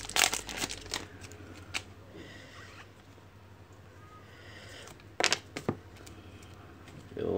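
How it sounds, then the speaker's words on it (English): Trading cards from a Panini Donruss soccer box are shuffled quickly by hand, giving short riffling bursts near the start and again partway through, with a quieter rustle between them. "I think I'm just gonna have to shuffle the cards really quick."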